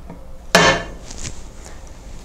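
A homemade slide hammer center punch, its sliding weight driving the punch into metal, gives one sharp, loud metallic strike followed by a fading ring and quiet handling noise.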